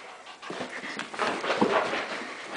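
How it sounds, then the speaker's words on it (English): A freshly bathed dog pants quickly and rhythmically close by indoors, with soft breathy huffs and a faint whimper in a short burst. "There's Emily chasing the dog"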